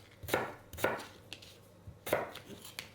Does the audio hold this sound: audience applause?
no